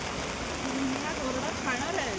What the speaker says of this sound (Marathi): अशा आम्ही पावसात भिजतोय छत्र्या घेऊन.